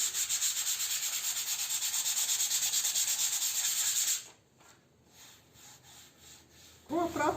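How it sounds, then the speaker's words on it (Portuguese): Primed furniture hand-sanded with 100-grit sandpaper, a quick rhythmic scratching rub close by for about four seconds, then a few faint strokes and a brief shuffle. "Aí eu vim com uma lixa 100, tá? Pode ser lixa 80, pode ser 120, aquela lixa de acabamento de parede, tá bom? Vim aqui e lixei bem"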